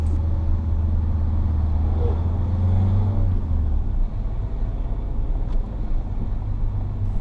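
A manual car pulling away on a hill start without the handbrake, its engine rumbling steadily and close, with the low drone easing and dropping in level partway through.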